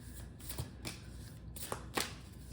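Tarot cards being shuffled by hand during a pile-reading session, with a steady papery riffling broken by several sharper flutters and snaps, close and fairly quiet, no talking.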